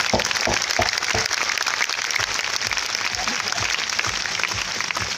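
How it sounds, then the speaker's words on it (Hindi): An audience at a trading company's anniversary event gives loud, sustained applause for the company directors, a thick continuous clatter of many hands filling the room with no talk on top. "तो मैं एक बार चाहूंगा हमारे सभी डायरेक्टर सर के लिए जोरदार ताली होना चाहिए दोस्तों, ताली जोरदार जोरदार।"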